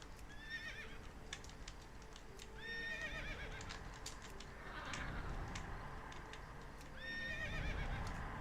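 Horses in the video game World of Warcraft whinny repeatedly over a constant clatter of hooves, with several neighs spaced a few seconds apart.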